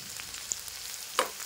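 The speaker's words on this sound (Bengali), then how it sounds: "আরেকবার নাড়িয়ে চাড়িয়ে নিই আমি, দেখি আলুটা কি অবস্থা" A potato, cauliflower and soybean curry sizzles gently in a pan while it is stirred, with a soft scrape or clink of the utensil near the end. The sound is close and steady and no one speaks.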